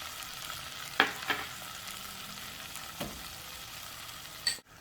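Peaches and sugar drop into melted butter in a small saucepan with a couple of soft thumps and light clatters, then a gentle quiet sizzle continues, ending in a brief clunk.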